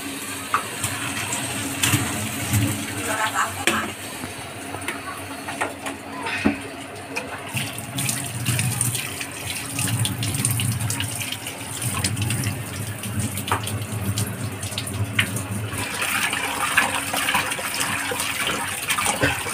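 Water from a pot of boiled octopus is drained off in a steady, continuous splashing gush that runs close and fairly loud for the whole stretch, with no clear talk over it.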